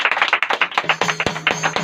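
Congregation at a Christian testimony service clapping hands together in a quick, uneven burst of close claps, with a low tone sounding beneath the later claps.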